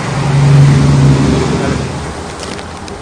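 Street traffic with cars jammed on a road in Mexico City near Iztacalco and Iztapalapa, a loud steady rumble of engines and tyres with one vehicle swelling past, then easing slightly.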